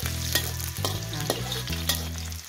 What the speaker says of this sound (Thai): จะเจียวหอมเนาะไม่เอากระเทียมนะคะวันนี้นะคะ